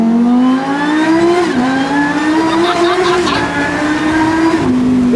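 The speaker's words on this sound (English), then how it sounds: "Man, the acceleration is amazing." A supercharged Lamborghini accelerating hard, its engine roaring loud and close as the pitch climbs through gears with short dips at each shift, occupants talking faintly beneath the roar.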